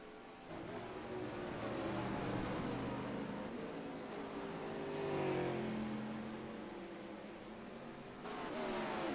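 Winged sprint cars running hot laps on the Knoxville dirt track roar past at a distance, engines rising and falling as several cars circle, a steady, rumbling race-track din without talk.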